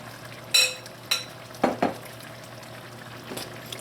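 A few scraping, clinking stirs of rice in a pot for chicken biryani, short bursts separated by pauses, over a faint background hum.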